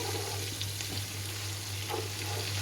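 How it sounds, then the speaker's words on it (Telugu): Ginger-garlic paste fries in a pan for chicken biryani, a steady soft sizzle with a low hum beneath and a few faint stirring scrapes, no talk. "అల్లం వెల్లుల్లి పేస్ట్ పచ్చి వాసన పోయే వరకు బాగా ఫ్రై చేసుకోవాలి"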